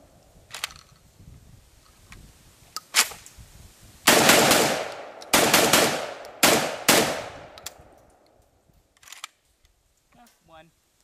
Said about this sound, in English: today we just got through test firing a new offering out of Russia